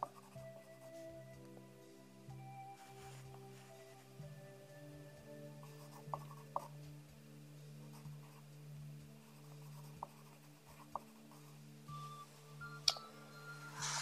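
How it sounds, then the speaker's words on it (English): Pen or pencil writing on a paper character sheet for a tabletop role-playing game, faint scratchy strokes with occasional light taps against a quiet background drone. "So we can write it in"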